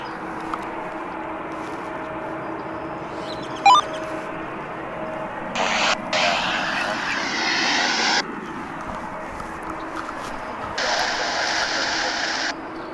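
An American airliner takes off from DFW airport with the Dallas skyline in the background, a steady distant jet roar heard with short bursts of radio or tower chatter over it.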